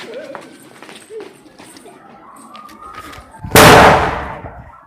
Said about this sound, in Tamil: ஒருத்தா நீ வெடியை போடுறா, நான் பார்த்துக்கிறேன்.